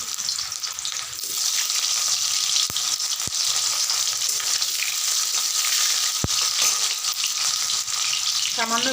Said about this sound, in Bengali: তেল গরম হয়ে গেছে, আমি আলুগুলোকে দিয়ে দিচ্ছি।